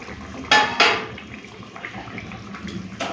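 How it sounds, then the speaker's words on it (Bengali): A lid comes off a cooking pot of fish and cauliflower curry with two quick metallic clanks close by, followed by a soft, low simmering hiss. "এখন ঢাকাটা খুলে নিচ্ছি"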